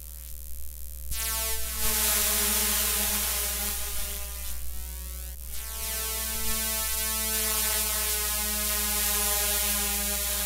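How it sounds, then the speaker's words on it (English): LED lights picked up through an electromagnetic coil give a steady, loud electronic hum of stacked harmonic tones like a chord, with buzzy pulses and occasional clicks shifting over it. "These LED lights have, I've used this in a couple of videos, but they've got a really beautiful, almost like a chord sound."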